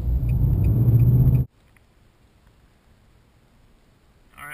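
A Nissan Titan pickup truck accelerates up a hill, its engine a loud, close, steady rumbling roar for about a second and a half before cutting off abruptly into near silence.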